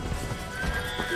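A horse neighs and its hooves clop close by in the Assassin's Creed video game, a short loud whinny over hoofbeats.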